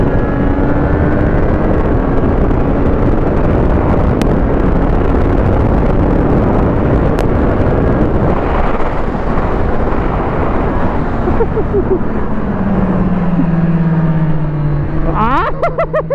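Triumph Street RS 765 motorcycle from 2023, loud and close with a sustained engine roar under heavy wind rush, with rising rev tones in the last few seconds as it accelerates again.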